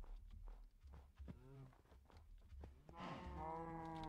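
Cows lowing in a video game: a short moo, then a longer drawn-out one near the end, over scattered footstep-like thuds in a quiet background.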